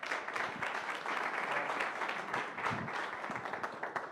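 An audience at a forum on journalism and disinformation claps steadily for several seconds, a dense, fairly soft wash of applause with no talk over it.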